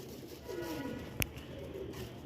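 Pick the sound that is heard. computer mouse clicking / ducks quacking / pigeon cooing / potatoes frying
pigeon cooing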